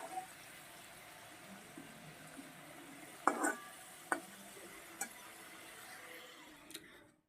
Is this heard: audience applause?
no